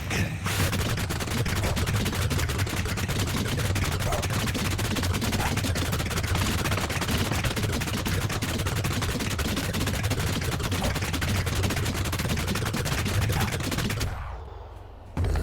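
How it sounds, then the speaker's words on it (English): Explosions in the Minecraft video game go off in a dense, nonstop barrage of loud crackling blasts for about fourteen seconds, then break off abruptly. "We've got the final explosion."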